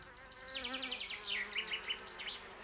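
Bees buzz close by in a busy, wavering drone, the pitch bending up and down as they move about, with no voices.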